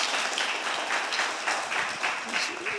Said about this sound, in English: another round of applause, I think, for them all, please